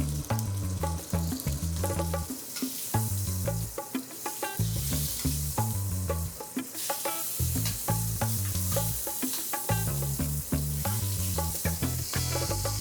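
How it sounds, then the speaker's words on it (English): Pork chops searing in hot oil in a pan, a continuous loud sizzle broken by clattering bursts as the pan is tilted and the chops are lifted and shifted, with no talking. "I'm tilting the pan and I'm lifting up the chops. That just helps redistribute the oil underneath so you get a nice even sear."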